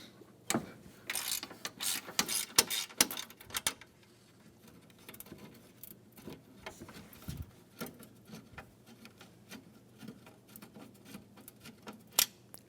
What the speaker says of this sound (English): Remove the 10mm bolt on the bottom of the center radiator support